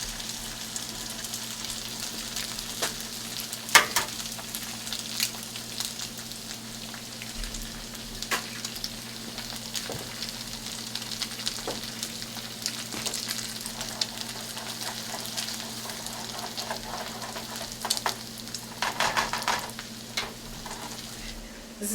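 Eggs frying in a pan with Spam and potatoes, a steady close sizzle and crackle running throughout with occasional spatters and utensil scrapes.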